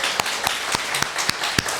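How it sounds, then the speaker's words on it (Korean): Church congregation clapping after an announcement at a Sunday afternoon service, heard as a series of sharp, evenly spaced claps rather than sustained applause. "우리 구역 수고하시면 박수 한번 보내주세요"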